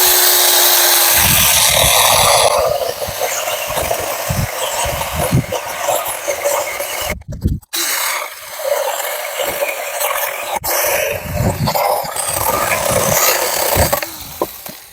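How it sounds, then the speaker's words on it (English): A cordless 6-inch Rayphon mini chainsaw buzzes steadily through wood for several seconds, briefly stopping twice before cutting again, loud and close. "with these mini chainsaws, this is about as big as I would ever go"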